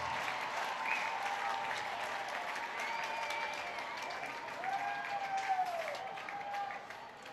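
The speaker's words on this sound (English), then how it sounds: "Slow clap starts at Rent One Park." Baseball crowd at Rent One Park in a slow, building clap during a Miners home game with one pitch left, distant and steady across the stands, with faint whistles and crowd murmur.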